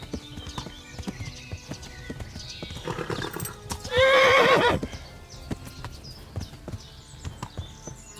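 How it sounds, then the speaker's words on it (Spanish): Horse in the medieval game Kingdom Come: Deliverance, hooves clip-clopping in a steady rhythm, then a loud, clear whinny in the middle before the hoofbeats carry on. The whole sound is close and alone, with no talk. "mi caballo vuelve a agotarse"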